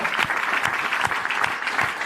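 A church congregation claps together in praise, a dense, steady rhythmic applause filling the room without a break.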